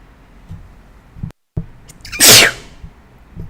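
A single loud, close sneeze bursts out after a brief hush, a sharp breathy blast lasting about half a second amid quiet room noise.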